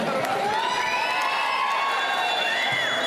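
An audience at a Kannada film event for the movie Gowri cheers loudly, with shrill whoops and high-pitched shouts rising over a dense, steady crowd roar for a few seconds.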